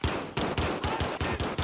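Rapid pistol shots from the video game Warzone, about seven sharp, loud bursts in quick succession with no voices over them.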